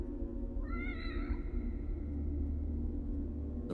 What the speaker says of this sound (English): Black cat with red eyes.